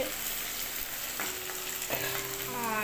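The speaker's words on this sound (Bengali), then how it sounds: "এই দেখো আলু ভাজা হচ্ছে" Potatoes sizzle steadily in hot oil, a close continuous crackle with a few scrapes and clinks of stirring in the pan.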